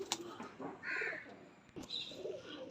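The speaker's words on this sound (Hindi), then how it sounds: "ये कबूतर है मेरे भाई, काली नोक है, प्योर चौधरी वाला कबूतर है अल्हम्दुलिल्लाह।" A black-tipped Chaudhry pigeon coos at close range, giving soft throaty calls in a couple of bursts with brief rustling between them.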